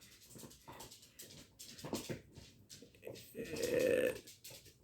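Dogs whimper and pant close by in short, uneven bursts of breathing, rising to a thin, high whine near the end.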